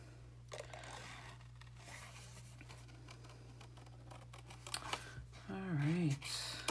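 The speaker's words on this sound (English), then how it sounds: "we're going to take our snips and we're just going to cut this" Metal snips cutting around a stamped paper image, with faint crisp snips and paper scraping close by over a steady low hum; a brief louder rustle comes near the end.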